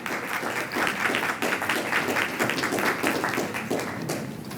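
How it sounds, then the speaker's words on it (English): A meeting room audience claps together for a woman at a county commissioners' budget session, a dense steady round of applause that holds evenly for several seconds before easing slightly at the end. "we can clap for her."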